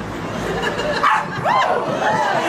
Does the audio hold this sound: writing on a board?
no